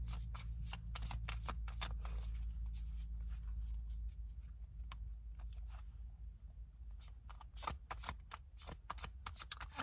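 A deck of cards being shuffled thoroughly, quiet crisp riffles and snapping flutters repeated in bursts close by, with a low hum underneath.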